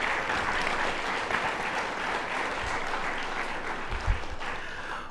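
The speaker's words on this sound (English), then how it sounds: "Let's give one more big round of applause for our 2023 Alumni Award recipients." Steady audience applause for university alumni award recipients at a homecoming ceremony, a dense, even clapping that holds for the full stretch without cheering or talk.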